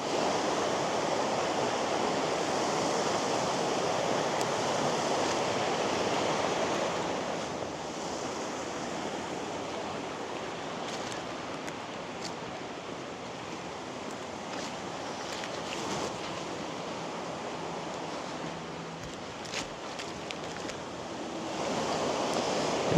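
A small waterfall cascade in a Canadian rainforest gives a steady, broadband rushing hiss of falling water, close and continuous, easing slightly in level partway through with a few faint knocks.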